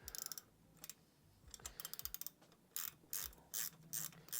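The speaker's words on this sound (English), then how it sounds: "I've treated myself to some ratchet spanners and they're blooming brilliant" Ratchet spanners clicking quickly as they tighten parts on a Raleigh Maverick Pro ATB bike under restoration, in close bursts of rapid ticks separated by brief pauses, with no talk.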